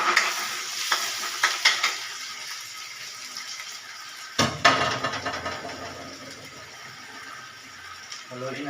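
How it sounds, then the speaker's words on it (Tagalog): Garlic and onion frying in a pan for basic fried rice, stirred with a utensil that scrapes in a few scattered strokes over a steady sizzle, with a louder burst of frying partway through. "Haluin natin siya hanggang pula yung bawang natin."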